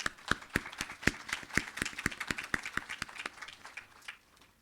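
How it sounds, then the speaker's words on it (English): A crowd gives a round of applause for the team at the launch of a women's empowerment initiative, sharp claps rising and falling steadily before thinning out near the end. "A big round of applause for the entire team."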